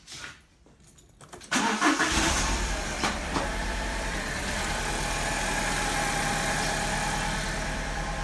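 Alfa Romeo 147/156 2.0 Twin Spark engine cranks briefly and catches after a quiet moment, then settles into a loud, steady idle with a slightly uneven misfiring beat.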